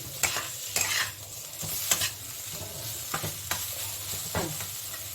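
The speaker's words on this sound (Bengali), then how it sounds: "আবার একটু নাড়িয়ে নেব" Onions frying in a pan with very little oil are stirred in repeated scraping strokes, each pass rising over a steady close sizzle.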